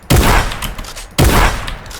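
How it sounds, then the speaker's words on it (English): A combat shotgun firing twice in Fortnite, each shot a loud close blast with a short decaying tail, roughly a second apart. "I like to grab a shotgun. Preferably the combat, because that's my favorite gun in the game."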